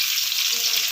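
Spice paste frying in soya oil while being stirred with a wooden spoon, a loud, close, continuous hiss and sizzle with no voices.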